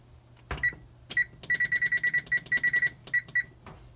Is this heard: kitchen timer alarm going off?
yes